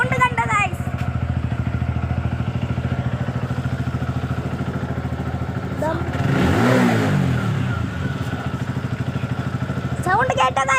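A motorcycle engine runs at a steady, close idle, then surges into a loud rev around the middle before settling back to a rumbling tick-over.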